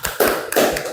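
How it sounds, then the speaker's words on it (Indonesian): Hands clapping in a classroom for a group's presentation, a few sharp, close claps in quick succession. "Tepuk tangan."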